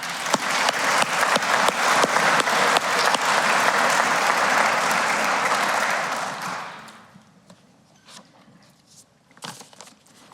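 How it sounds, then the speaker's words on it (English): A large audience at an alumni association awards ceremony applauds loudly and steadily for several seconds, then the clapping thins out and fades to a few scattered claps. "let's give a round of applause for John."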